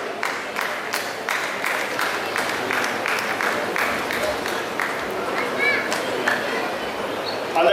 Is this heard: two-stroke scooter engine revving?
no